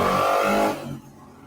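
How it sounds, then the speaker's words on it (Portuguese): A motorcycle passes outside, its engine loud and revving at first before fading quickly into the distance. "Desculpa a moto, gente."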